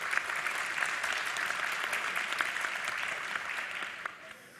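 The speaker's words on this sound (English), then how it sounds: "you should give a big clap for the organisers and the people that have been looking after it all" A conference audience applauds the organisers, a dense, even wash of many hands clapping that carries on steadily and fades near the end.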